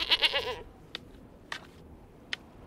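A goat bleats in a short, loud wavering burst, then falls silent apart from a few faint, sharp clicks.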